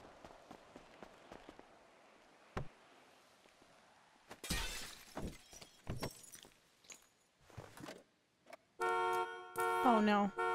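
In a video game, a stolen car's horn blares in repeated loud honks near the end, after scattered clunks and glass-shattering crashes, with talk throughout.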